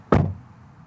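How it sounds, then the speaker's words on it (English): A single solid thunk of a Nissan Ariya car door shutting nearby, slightly plasticky and loose, followed by a brief fading rattle and quiet. "what does a door sound like when you close it?"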